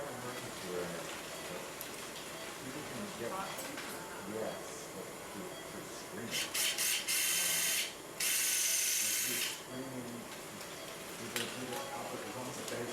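A 2.3 mm Osteoraptor suture anchor is placed in a shoulder during arthroscopic SLAP repair, giving a couple of bright, rapid mechanical ratcheting bursts over a quiet background hum.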